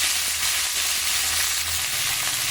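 Green chillies frying in oil in a pan, a steady dense sizzle that holds evenly throughout at close range, with no voices.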